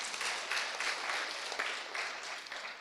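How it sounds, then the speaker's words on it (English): An audience at a university research conference claps in a steady, moderately loud burst of many hands, with slight pulsing through the round of applause and no voices heard. "Please clap for yourselves."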